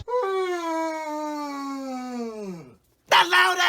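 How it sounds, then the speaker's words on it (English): A person lets out one loud, drawn-out yawn that starts high and slides down into a groaning tail over a couple of seconds, followed after a brief pause by a burst of speech. "That loud ass yawn."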